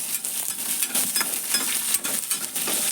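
Okra and onion fry in a pan with a continuous bright sizzle, broken by soft, uneven stirring scrapes, with no voices.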